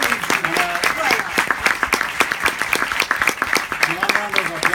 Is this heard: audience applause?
yes